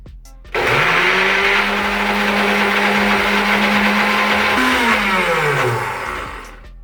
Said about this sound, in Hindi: इसे कवर करेंगे और इन्हें ब्लेंड करेंगे अच्छे से 2 से 3 मिनट के लिए।